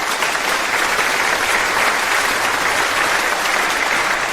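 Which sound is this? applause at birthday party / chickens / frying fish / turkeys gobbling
applause at birthday party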